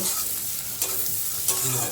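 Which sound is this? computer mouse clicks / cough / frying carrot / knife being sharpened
frying carrot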